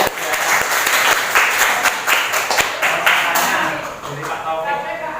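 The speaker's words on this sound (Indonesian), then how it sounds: "Tepuk tangan dulu buat Mas Rias." An audience at a teacher-training mentoring session applauds, a dense, loud burst of clapping that carries on steadily and tapers slightly near the end, with a voice speaking over it.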